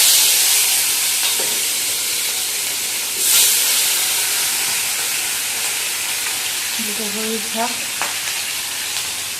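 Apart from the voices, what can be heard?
fish sizzling as it fries in a pan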